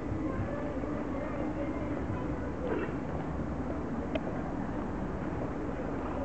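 An intercity train with a "dog's head" nose rumbles past with a dense, continuous low roar and rattling, steady throughout, with a couple of faint squeals over the noise.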